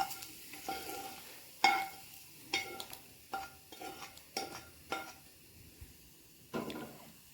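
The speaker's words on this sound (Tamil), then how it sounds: "கடாயில் லேசாக சூடு இருக்கும்போது இதை கிளறிடணும்." Roasted gram and flattened rice are stirred in a warm pan for a festival snack, giving a series of separate scraping, rustling strokes with occasional light metallic clinks, moderately close, with no talk.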